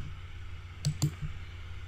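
Computer mouse clicking, two quick close clicks followed by a fainter third over a low steady hum, no talking.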